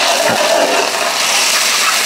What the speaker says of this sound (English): now adding a splash of water. This deglazes the pan and just softens up all the onions,